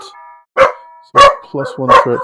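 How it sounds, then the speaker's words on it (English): Dogs bark in the background as someone talks over them, a couple of sharp barks followed by a quick run of clustered barking, fairly loud and near. "Sorry about my dogs in the background."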